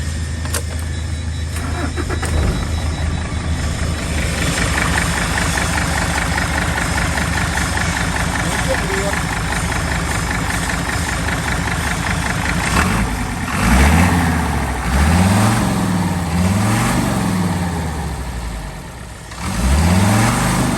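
Remapped tractor truck diesel engine rumbles at a steady, knocking idle, then revs repeatedly in deep swelling bursts. It is loud and close, with no talking.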